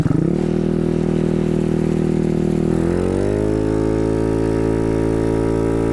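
A Honda Ruckus scooter with a GY6 190cc stroker engine, 63mm bore, runs loud and close, its steady buzzing drone rising in pitch as the throttle opens and then holding at the higher speed.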